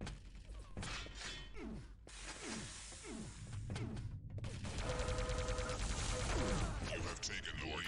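Railgun fire in the video game Quake 3 Arena: sharp, repeated blasts with sweeping whooshes and impact cracks, packed into fast, continuous arena combat.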